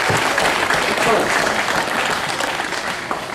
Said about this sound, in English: Bit of a round of applause to start things off